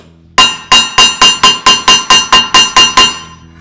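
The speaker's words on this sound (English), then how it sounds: "You hammer it." Eleven sharp metallic hammer blows land in a steady, even rhythm, each one ringing briefly before the next strike. The blows are close and loud, with no talking over them.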